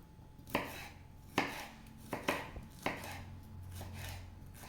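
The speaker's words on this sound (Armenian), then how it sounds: "Պղպեղը կտրատելուց սովորաբար ներսի կողմից են կտրում" Several sharp knife chops through a bell pepper on a cutting board, spaced irregularly, close and fairly crisp, with quiet pauses between strokes.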